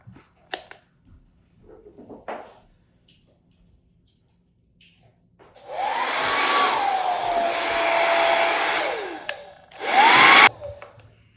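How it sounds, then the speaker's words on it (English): A hair dryer whirs loudly for a few seconds, stops briefly, then blasts again, its motor pitch sliding down as it powers off, after a few quiet taps. "so I'm going to dry it. I use a hairdryer."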